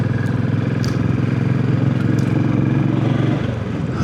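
A Royal Enfield Classic 500 EFI motorcycle thumps along a road at steady speed, its low, even single-cylinder rumble close and constant, easing slightly near the end, with no one speaking.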